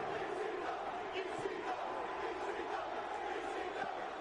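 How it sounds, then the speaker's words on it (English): Hardcore wrestling crowd roaring steadily and loudly through an extreme-rules match as a steel chair is swung in repeated shots to an opponent's head, dense cheering with no distinct individual impacts standing out. "The crowd loved that little comeback by Sandman with his steel chair shots to the head."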